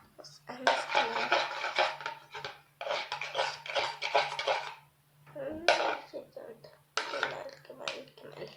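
Wet scraping and clinking of a utensil stirring a slime mix of Pantene shampoo and 123 detergent in a container, in several bursts with short pauses, close and fairly loud.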